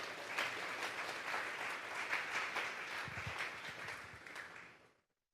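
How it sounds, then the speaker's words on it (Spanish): A church congregation at a Sunday service claps in strong, continuous applause that holds steady for several seconds, with a few low thumps near the middle, then cuts off abruptly. "Vamos a darle un fuerte aplauso pues al Señor."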